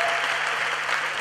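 Steady, full applause from a festival crowd honoring the cocktail bar, a short even wash of many hands clapping at once.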